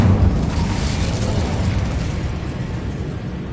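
The Incendio fire spell in Hogwarts Legacy bursts with a loud, roaring whoosh of flame that peaks at the start and then fades into a sustained crackling rumble.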